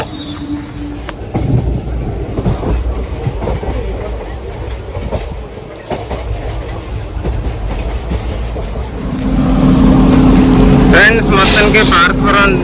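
Riding aboard a passenger train, a constant rumbling clatter of wheels on rails that swells louder toward the end, with people talking nearby over the noise.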